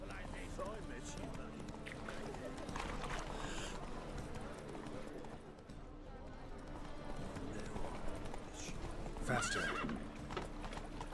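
Hooves clip-clop steadily as a horse gallops in The Witcher 3, with an occasional whinny, all running continuously beneath a man's spoken lines and game music.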